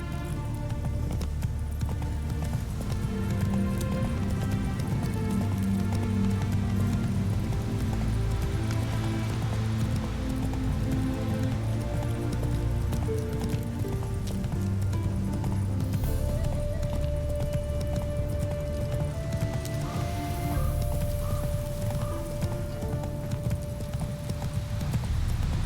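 A horse gallops with continuous rhythmic clip-clop hoofbeats, close and loud, for the whole stretch. A musical backing plays underneath, and a sustained tone enters partway through.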